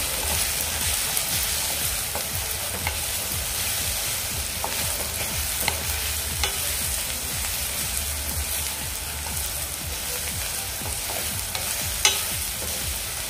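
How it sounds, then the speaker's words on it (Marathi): Red chili powder, turmeric, onion-garlic masala and garam masala being mixed into sizzling food in a pan, giving a long, even crackle with occasional light clicks of a utensil against the pan. "आता हे मसाले आपण यामध्ये व्यवस्थित मिक्स करून घेऊया."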